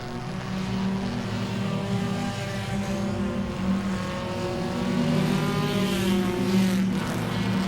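Race cars circling Langley Speedway on lap 2 of the Bojangles Enduro, their engines blending into a loud, continuous droning roar with rising and falling pitch as the pack passes.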